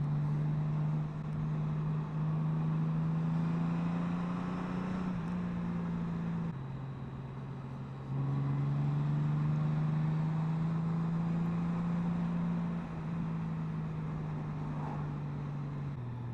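A 2021 Honda Gold Wing touring motorcycle cruising on the road, its steady engine drone rising and falling slightly with throttle changes, with wind noise throughout and a brief dip in engine tone near the middle.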